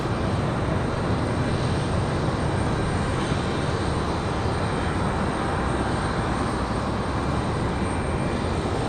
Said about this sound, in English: we got the Air France Dreamliner on the move